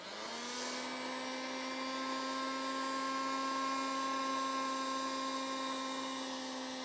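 A cheap nine-pound handheld vacuum cleaner bought on eBay runs steadily while sucking up a small pile of sand, giving a continuous high-pitched motor whine that holds level and close for the whole stretch, with no talking.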